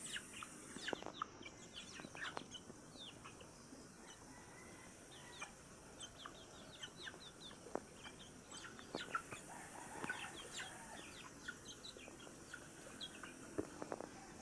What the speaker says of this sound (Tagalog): May tagabantay ito mga manok.